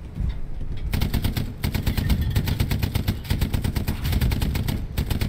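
Rapid machine-gun fire in the World War II shooter Hell Let Loose, with a Sherman tank and infantry in a battle near smoke: loud, steady bursts of evenly spaced shots after a brief quieter start, with no talking.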